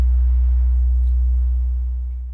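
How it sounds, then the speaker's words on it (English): A single simple sine wave synth tone used like a kick drum sits deep and steady, then slowly fades over about two seconds, clean and alone with nothing else audible. "I've got just a very simple sine wave kind of sound here, like a kick"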